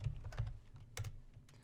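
Computer keyboard typing while filling in an online insurance form: a quick run of close, crisp key clicks with short pauses between bursts and no voices.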